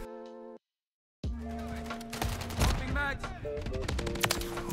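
Pistol gunfire in the Call of Duty Modern Warfare III video game, a loud, dense burst of shots and game noise following a brief silence, with a busy match mix throughout.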